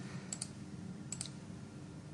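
Computer mouse clicks while entering a date in a desktop form, two quick pairs of crisp clicks close up over a faint steady background hum.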